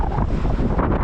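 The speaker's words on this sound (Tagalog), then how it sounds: "Tinatangay tayo, lakas ng hangin" Strong gusting wind buffets a microphone during a motorcycle ride on a windy commute, a loud, continuous low roar with no break for the whole moment.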